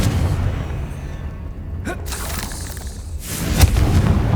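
A Confringo fire spell in Hogwarts Legacy bursts into rumbling booms over a dense game soundscape, a low roar swelling to a sharper blast near the end, with a short voice in the mix.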